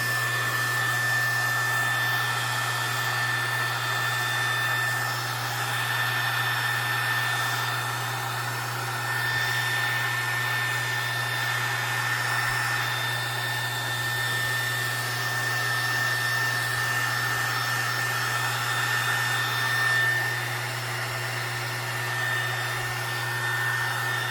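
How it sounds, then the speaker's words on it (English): A heat gun used on crystal resin craft items blows steadily and loudly without pause, a constant high whine over a low hum, running close by for a long stretch. "I have my heat gun here."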